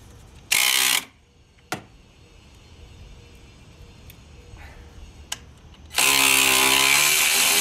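A ratchet loosens the upper transmission mount bolts on a Chevy Impala, with two loud bursts of rapid clicking at the start and end and a few isolated metallic clicks between them.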